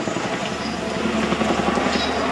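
Helicopter flying an aerobatic display at an air fair at Biggin Hill, a loud, dense rotor and engine roar that holds steady and fills the short stretch, with a voice talking over it.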